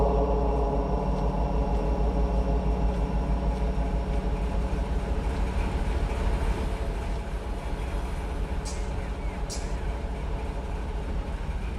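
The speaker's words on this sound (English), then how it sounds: "When she comes to a stop, apply the locomotive brake." An autorack freight train in the Run 8 train simulator game rumbles steadily as it slows to a stop, with a continuous loud low drone and a pair of brief sharp hissing bursts near the end.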